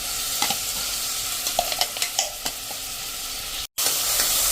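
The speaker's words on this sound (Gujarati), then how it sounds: "તો હવે કાંદા લસણ ને એકદમ સરસ આપણે આ રીતે કૂક કરી લેશું" Finely chopped onions and garlic sauté in a pan, a continuous close sizzle broken by repeated stirring scrapes and a brief drop-out near the end.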